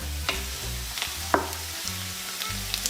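Sliced peppers sizzle steadily in a frying pan, a soft continuous crackle with a few faint clinks of stirring.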